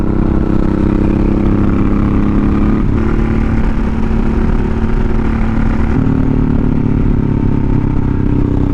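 Honda VTX1800 cruiser motorcycle riding through twisty roads, its engine a loud, steady low rumble throughout with slight shifts in pitch, no voices.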